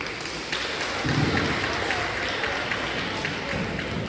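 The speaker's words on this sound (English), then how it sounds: "Give yourself a round of applause." Sixth-grade students applauding themselves at an honors day ceremony, a broad even wash of clapping sustained at moderate level throughout.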